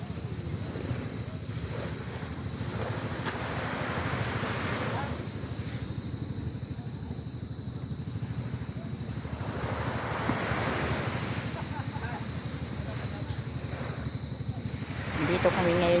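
Sea waves roll and wash onto a beach in a steady, continuous surge, with wind buffeting the microphone throughout and a few swells rising and fading.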